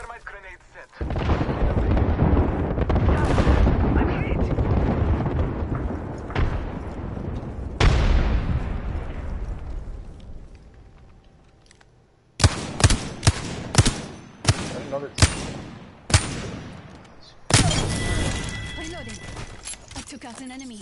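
Airstrike explosions and rumbling blasts in a first-person shooter video game, loud and sustained at first, then fading into a string of sharp gunshots and short bursts of fire, with players talking over the combat.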